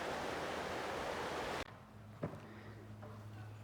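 Water from a small creek at the Dennis Cove Road crossing on the Appalachian Trail, a loud broadband rush for the first second and a half, then a quieter, steadier flow with a few splashes.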